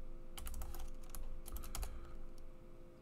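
Code typed on a computer keyboard while connecting an Express.js app to a MongoDB Atlas database: clusters of quick, close key clicks in uneven bursts with brief pauses, no talking.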